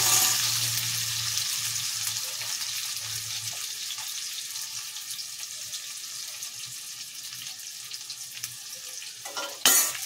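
Onions frying in a pan give a continuous, close hiss and sizzle that slowly softens, ending with a brief clatter of the pan or utensil; nobody speaks.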